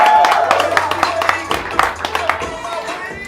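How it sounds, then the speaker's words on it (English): Live podcast audience clapping for a guest, a short burst of scattered, uneven claps close by that thins out toward the end. "So give David a round of applause"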